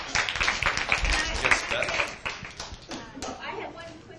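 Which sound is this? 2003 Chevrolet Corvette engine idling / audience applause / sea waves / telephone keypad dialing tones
audience applause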